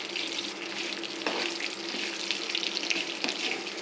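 A tempering of curry leaves and asafoetida frying in oil in a pan, a continuous soft hiss and sizzle at moderate distance with a few faint clicks, no talking.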